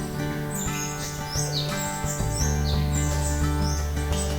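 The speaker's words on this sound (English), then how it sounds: "These brilliantly coloured king parrots and crimson rosellas are the jewels of the rainforest." Bright chirps and whistled calls from king parrots and crimson rosellas overlap over a low steady background hum in rainforest, continuous and fairly close.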